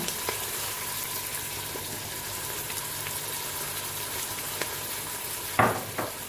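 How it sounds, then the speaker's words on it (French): Flour being stirred into veal blanquette in a Cookeo multicooker, a faint continuous sizzling bed with a few soft scrapes and one louder clatter near the end, close and without talk. "Je tourne, je mélange."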